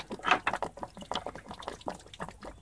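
Water and stop-leak coolant draining from the cooling system of a 1989 Jeep Cherokee into a catch pan after the switch is removed, giving a close, steady liquid trickle with faint drips and no talk.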